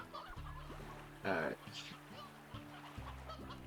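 Video game chickens in Slime Rancher cluck softly amid game music, with one louder, brief burst of clucking in the middle.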